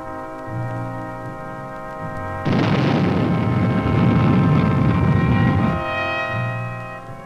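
A missile launch roars out as a loud, dense rushing blast for about three seconds. It cuts in abruptly over sustained orchestral music, then drops away, with no talking.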